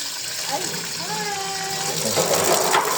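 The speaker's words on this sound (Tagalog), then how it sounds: "lagyan natin ng tubig ah" Water is poured into a container for pet Philippine box turtles, a steady gushing splash with rising tones as it fills, under a voice talking.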